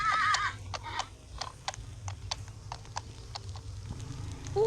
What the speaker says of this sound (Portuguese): Barulho de cavalo.